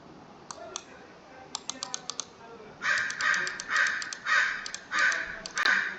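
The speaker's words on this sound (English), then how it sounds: "Sorry for the bird noises. There's a bunch of crows outside." Crows outside caw in a run of about six loud, rhythmic calls in the second half, heard behind sharp keyboard typing clicks that come earlier.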